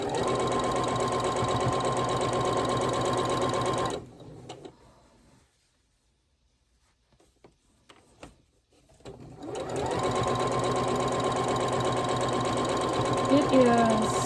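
A sewing machine stitches a gnome quilt block in loud, steady whirring runs, stopping for a few quiet seconds mid-way and then starting up again, close to the microphone.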